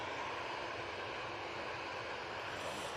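A passenger airplane takes off from Manchester Airport, a broad steady jet roar heard from a distance, constant and unbroken with no voices.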